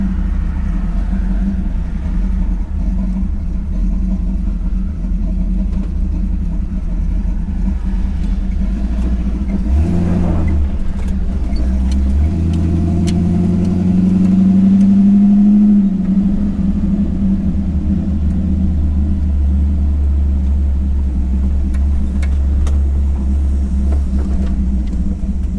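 Engine of a 1951 Chevy truck on a short test drive across a school parking lot, a steady low rumble that swells as it revs and pulls away partway through, continuous and close with no talking.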